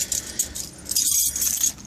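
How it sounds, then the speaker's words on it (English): Keys jangle and rattle in short bursts as they are pulled from a pocket beside a bagged 1994 Toyota pickup, close and fairly loud with no talking. "Might help if I get my keys out."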